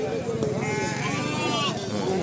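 Sheep bleating at the Pebbair sheep market, several wavering bleats rising over a busy crowd, with people talking loudly throughout.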